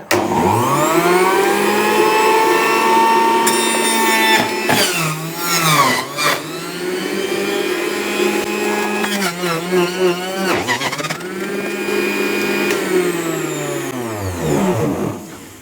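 An electric multi-juicer runs steadily while juicing pineapple pieces, a loud continuous motor whine with pitch dips and surges as chunks pass through, no talking over it.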